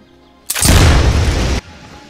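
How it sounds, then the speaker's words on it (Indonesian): A landmine blast in a World War battle scene erupts as a single loud, close boom with a roaring rumble that holds for about a second, then cuts off abruptly. "akhirnya ledakan pun terjadi menewaskan rekannya Fried"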